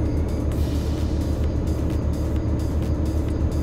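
A heavy truck cruises steadily in Euro Truck Simulator 2, its engine a constant loud drone with road noise and faint hissing bursts throughout, no voices.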